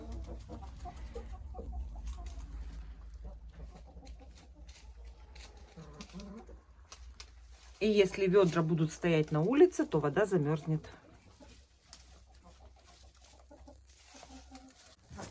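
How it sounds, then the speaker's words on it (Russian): A three-year-old Black Copper Marans hen clucks in a quick run of calls, close and clear, with someone talking before and around it. "Вот моя настоящая курочка Маран."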